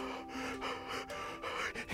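A voice imitates heavy mouth breathing: a run of short, quick gasping breaths in and out, fairly close and loud, with no words.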